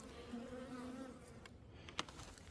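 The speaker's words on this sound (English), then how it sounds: "there's our bees. They're very active, so we'll see how they're doing." A soft, steady drone of many honey bees buzzing close together in a hive, with a few brief clicks and knocks near the end.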